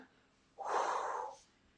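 A single forceful breath, a short rushing exhale lasting under a second, taken during a kettlebell strength and cardio workout, close and clear against near silence.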